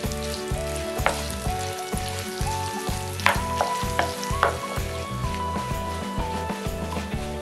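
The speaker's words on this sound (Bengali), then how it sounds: "এখন রসুন পেঁয়াজ দিয়ে দিচ্ছি। এগুলোকে এখন আমি ব্রাউন করে ভেজে নিব।" Garlic and onion fry in hot oil with cumin and bay leaf for spinach dal, giving a crackling sizzle with sharp pops and rhythmic stirring clatter, close and fairly quiet.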